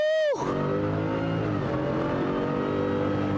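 A Ford 5-liter Coyote V8 pickup engine with a 3-liter Whipple supercharger, 700 horsepower, fires up and roars, then settles into a deep, loud, rumbling idle that carries on steadily up close.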